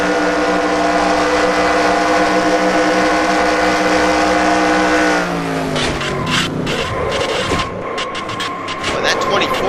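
A race truck roars at a steady high engine drone in an Indianapolis oval racing video game, then the tone drops and breaks up into scraping, crunching crash noise against a wall.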